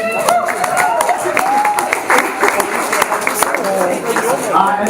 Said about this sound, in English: round of applause for the seniors